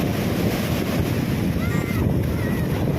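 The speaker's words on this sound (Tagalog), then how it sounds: "Galit na galit talaga ang dagat talaga pag may bagyo talaga, no?" Rough sea churned up by a typhoon: a continuous roar of surf and wind buffeting the microphone, loud and unbroken, with a brief faint whistling tone partway through.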